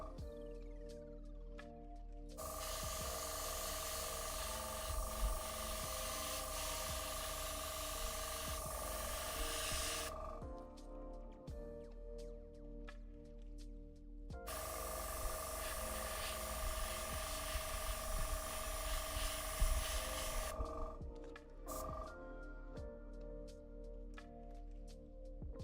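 An airbrush nozzle spraying paint for Warhammer 40k Dark Angels miniatures gives two long, steady bursts of airy hiss, each lasting several seconds with brief pauses between, close and even, and no talking.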